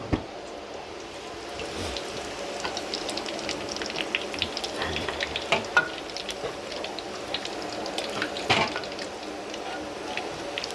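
Thai sun-dried pork fries in hot oil with a steady, crackling sizzle and scattered sharp pops, moderately close and continuous.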